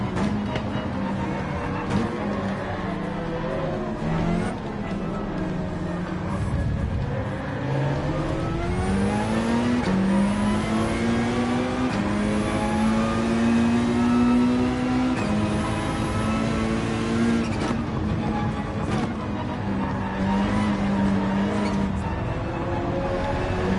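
Peugeot RCZ engine in the racing game Gran Turismo 7, revving and climbing through gears with rising and falling pitch sweeps, loud and continuous for the whole stretch with no talk over it.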